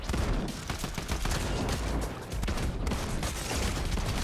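Rapid automatic gunfire from a video game shooter, a dense continuous burst of shots packed tightly together, loud and close, with a short dip near the middle before the firing resumes.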